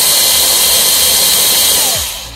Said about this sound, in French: On la plante, on dévisse un petit peu.